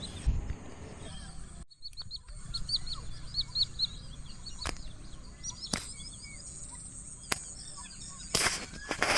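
Small birds chirp in quick, faint bursts by the KRS backwaters near Mysuru, heard at a distance over a soft, steady outdoor hiss with a few sharp knocks.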